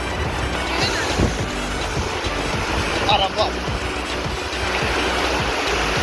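Floodwater after heavy rain rushes knee-deep through a village, where an overflowing pond spills out. It makes a steady, loud broadband wash with wind buffeting the microphone and a brief voice in the background.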